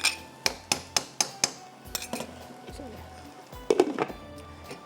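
Rice being stirred into butter jalfrezi in a pan: a run of sharp metallic clinks and scrapes from a spoon against the pan, then softer stirring noise with a few more knocks near the end, with speech present.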